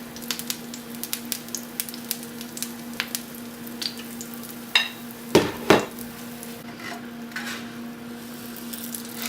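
Pumpkin pancake frying in coconut oil in a pan gives a steady, faint sizzle with a constant low hum, broken by a few sharp clicks and knocks of utensils against the pan midway.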